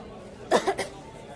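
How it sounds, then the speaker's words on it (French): A woman gives two quick, close coughs in a row, brief and moderately loud, during an annual general meeting of a Quebec criminologists' association. "Oh, attention, je vais tousser."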